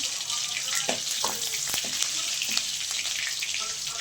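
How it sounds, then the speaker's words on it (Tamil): Onions frying in a pan until golden give a steady, bright sizzle throughout, with a few soft clinks and stirring scrapes rising over the constant hiss. "வெங்காயம் வந்து கொஞ்சம் பொன்னிறமாக சேர்க்கணும்."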